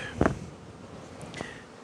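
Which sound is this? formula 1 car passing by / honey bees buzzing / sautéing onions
honey bees buzzing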